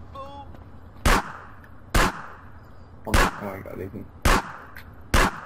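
Gunfire in GTA San Andreas multiplayer: five loud, separate shots spaced about a second apart, while players talk briefly between them.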